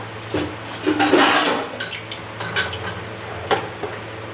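Bay leaves and a dried red chili hitting hot oil in a pan while cooking mung dal with rohu fish head, a loud rushing sizzle swelling up and then settling into a steady hiss with faint clinks, no talking.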